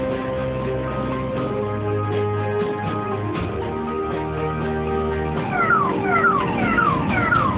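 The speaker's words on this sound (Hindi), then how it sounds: "ये देखिए ये अभी इमरजेंसी सायरन ऑन है।" A loud ambulance emergency siren wails nearby, its tones rising and falling over the rumble of traffic, with a second siren sweeping in near the end.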